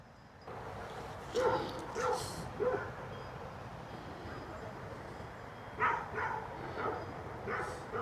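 A dog, met along a river path in a wild riverside jungle, gives several short barks and yips in loose bursts, moderately close, over a steady outdoor background hiss.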